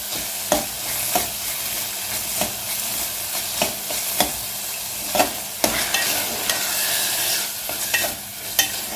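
Carrot halwa with dry fruits is sautéed in a hot pan, a continuous sizzle broken by regular sharp clacks of a spatula stirring and scraping, close and loud with no voices.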